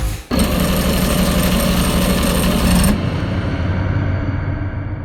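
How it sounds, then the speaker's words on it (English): A Montana Brand X29 brad point drill bit bores into wood with a steady, loud, close drilling roar that starts abruptly and runs for a few seconds, then eases to a lighter spinning hum as the drill winds down. "I don't think you will find another drill that drills as well as quickly as the Montana Brand X29 brad point drill"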